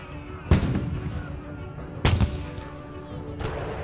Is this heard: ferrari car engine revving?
no